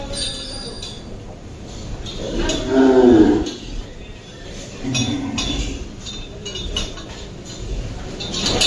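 Cattle scuffle at a farm during the Qurbani season, one animal letting out a loud bellowing moo while chains or metal fittings clink and rattle amid shuffling and scattered faint voices.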